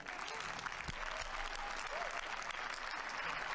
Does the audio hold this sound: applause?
yes